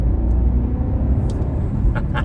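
Steady low rumble of a 2020 BMW 750i under acceleration, a continuous close interior engine and road drone with no talk over it.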